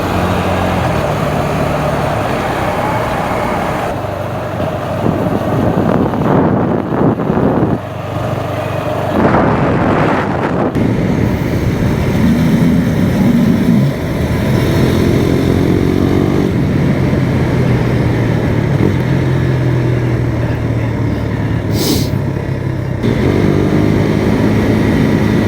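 A motorcycle on new tires is ridden steadily, with engine drone and road and wind noise heard continuously from the rider's position. The engine note shifts with speed throughout.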